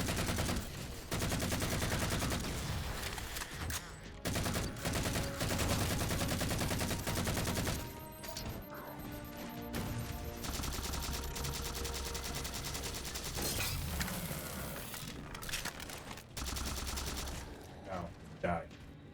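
Rapid automatic storm rifle fire in Halo 4, dense bursts of shots with chaotic game combat sounds, loud and nearly continuous across the whole stretch.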